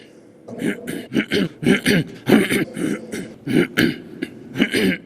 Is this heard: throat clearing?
yes